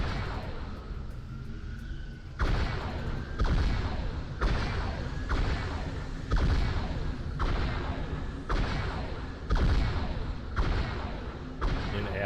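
A Phantom dropship turret in a Halo 3 mod fires heavy booming blasts in a regular rhythm, roughly one thump every second or so, loud and close over a low rumbling backdrop.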